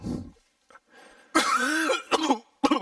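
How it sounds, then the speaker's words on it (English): Harsh throat clearing and coughing from a man getting over a cough, close to the mic, a few rough bursts with brief pauses between them, no words spoken. "I'm getting over a cough here."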